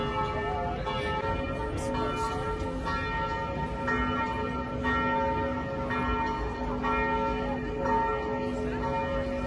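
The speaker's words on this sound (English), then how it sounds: "It has a neo-Gothic style of architecture and has a big, huge central bell which you can hear." A big central bell of a neo-Gothic Catholic church in Serbia rings with a sustained, resonant tolling, its steady humming overtones filling the air against faint outdoor background noise.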